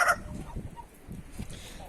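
A few short clucks from chickens nearby as they are let out of their coop, with soft scuffling in between and a brief sharp sound at the start.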